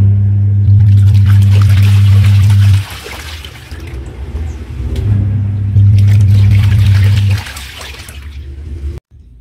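Curtains churning in water inside a washing machine during a rinse cycle: a loud, steady low motor hum with sloshing, pausing briefly midway before resuming, then stopping near the end.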